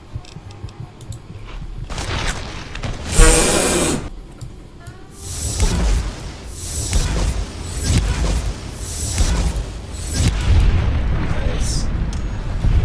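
Gunfire in the video game Fallout New Vegas, a series of loud sharp blasts and bursts scattered through the stretch, with someone talking over the combat.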